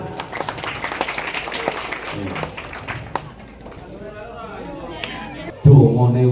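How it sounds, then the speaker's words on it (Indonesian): Audience at a religious talk claps in a short, uneven burst that fades out, with voices and chatter around it and a louder voice cutting in at the end. "Tinggal tepuk tangan."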